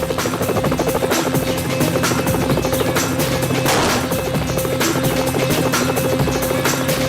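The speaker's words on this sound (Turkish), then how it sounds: "Efendim helikoptere binin." A helicopter's rotor drone sits under a loud, steady mix of action-scene gunfire and crashes, with no voices.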